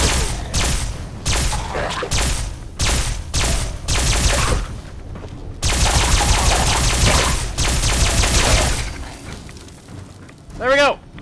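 Bursts of gunfire from a weapon in Fallout 4 crackle in rapid volleys, a long sustained stretch of fire in the middle, closing with a rising sci-fi zap; game effects are loud and close.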